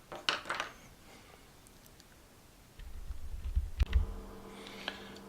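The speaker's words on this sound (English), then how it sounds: "next we'll be weighing out the shot, putting it in" Tungsten super shot is weighed and poured into shotshells by hand: light metallic clicks and taps at the start, then a soft trickling pour with a few sharp ticks, close and quiet in an otherwise still room.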